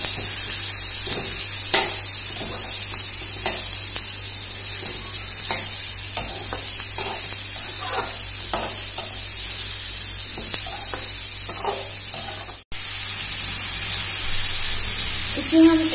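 Vegetables for veg fried rice stir-fry in a pan with a steady hiss and sizzle, broken by repeated scraping and stirring knocks; the sound briefly cuts out, then the sizzling resumes, louder and brighter.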